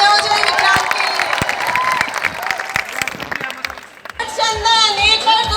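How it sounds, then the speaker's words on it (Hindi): Audience at a company achievement celebration breaks into applause and cheering, a loud crowd of clapping and shouts mixed with voices, nearby and lively. "तो एक बार तालियां हो जाए विक्रांत के लिए।"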